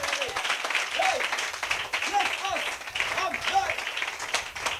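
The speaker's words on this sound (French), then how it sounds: "Donnez-lui une main d'acclamation" Steady applause from a Christian assembly, fairly loud, with a voice speaking over it throughout.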